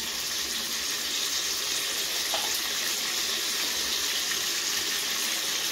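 Water pours steadily into powdered spices (turmeric, chilli and cumin) in a cooking pan for making masala, a continuous close rushing pour with no voices.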